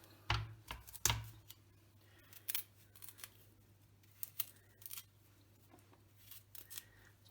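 Broccoli stalk ends are trimmed with a knife or scissors in a kitchen, giving several crisp close snips and cuts at irregular intervals, two sharper ones early, then lighter ones, with no talking.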